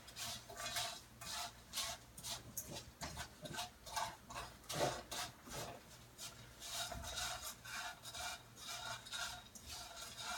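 Noodles being stirred around in oil in a pan, a quiet repeated scraping and clinking of a utensil against the pan in an uneven rhythm of strokes, close up.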